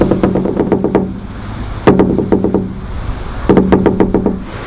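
Knuckles rap on the wooden body of a double bass in quick rhythmic bursts imitating a woodpecker, three clusters of loud, close, resonant knocks with short pauses between.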